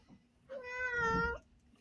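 A pet cat named Molly gives a single drawn-out meow lasting about a second, close and clear against a quiet room.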